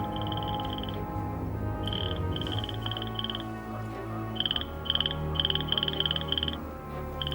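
A small red-bellied frog croaks in short repeated bursts, broken by pauses, over a steady low background hum.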